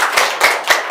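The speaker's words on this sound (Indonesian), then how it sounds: "Beri tepuk tangan untuk kelompok disosiatif." Applause in a classroom after a group presentation, heard as a short burst of a few people clapping, with three distinct louder claps standing out over steady background clapping.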